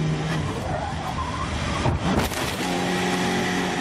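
Kevin Magnussen's Formula One car locks its brakes and crashes at the 2016 Belgian Grand Prix, a loud engine roar broken midway by a sharp skid and impact burst, then the engine drone carries on steadily.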